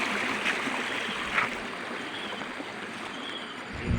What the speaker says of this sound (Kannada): ನೀರಿನ ಸೌಂಡು ಕೇಳ್ತಾ ಇದೆಯಾ?